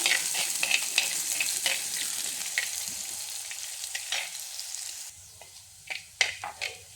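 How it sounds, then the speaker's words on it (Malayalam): Chopped onion and chilli frying with urad dal in hot oil, a continuous crackling sizzle with intermittent scraping stir strokes, close up and without speech. "ഉഴുന്ന് പരിപ്പ് മൂക്കുമ്പോൾ അതിലേക്ക് അരിഞ്ഞു വച്ചിരിക്കുന്ന ഉള്ളിയും മുളകും ഇടാം ഇട്ടൊന്ന് ഇളക്കി കൊടുക്കാം"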